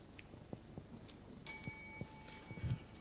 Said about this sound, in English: you may start when the bell is ringing